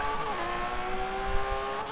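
A Lamborghini engine in the Forza Horizon 3 racing game holds a steady high whine with a gear shift early on, faint and slightly distant, with some road noise underneath and no talking.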